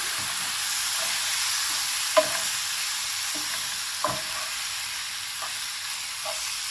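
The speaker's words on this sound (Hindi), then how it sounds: "ये मैं इसके अंदर ऐड कर दूँगी और अच्छी तरह मिक्स कर लूँगी" Finely chopped potatoes are stirred into a sizzling frying mixture, a steady hiss broken by a few distinct spoon knocks and scrapes against the pan, close up with no talking.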